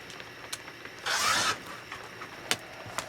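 A rotary cutter slices through quilting fabric along a ruler into 2.5-inch strips, heard as one short, close rasping cut, with a few light taps and handling knocks around it.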